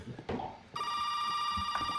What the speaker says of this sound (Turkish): telefon da çalmaya vakit buldu ya